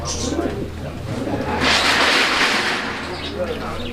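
A fancy female pigeon held in the hand for a vet check coos faintly amid rustling and a burst of handling noise, with a voice talking nearby.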